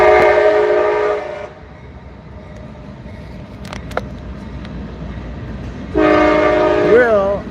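A Vietnamese reunification train passes, its loud multi-tone horn blaring at the start and again near the end, with a rumbling rail passage between the two blasts.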